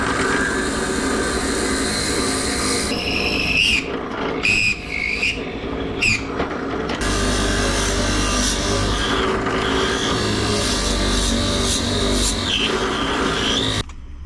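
A drill bores into a wooden pen blank cap made of historical wood. A loud, continuous motor whine shifts in pitch as the bit loads and unloads, close and without speech.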